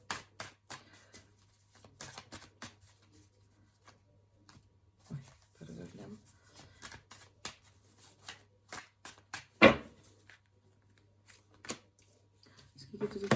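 Tarot cards are shuffled by hand in quick bursts of crisp snapping and riffling, with pauses between and a soft voice now and then.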